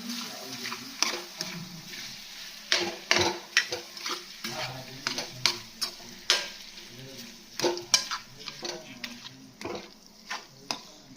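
Sabudana khichdi of tapioca pearls is stirred in a pan, with a soft sizzle under repeated scraping strokes and clinks of the spoon against the metal, close and moderately loud.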